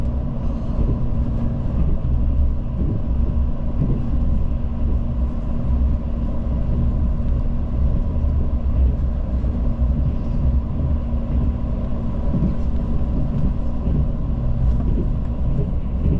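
Mugunghwa train running on the Gyeongbu Line beside the high-speed line, heard from inside the coach as a continuous low rumble and rolling drone with faint rhythmic rail clatter, steady and loud, with no talking.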